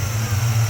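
A Chevy V8 fitted with a new ignition box, coil, distributor and carburetor runs in a short, close, steady low rumble.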